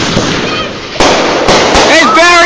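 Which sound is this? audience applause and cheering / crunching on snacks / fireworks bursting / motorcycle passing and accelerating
fireworks bursting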